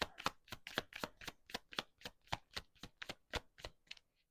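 Tarot cards are shuffled by hand in a quick, steady run of about a dozen crisp riffling flicks, close and fairly quiet, with no talking.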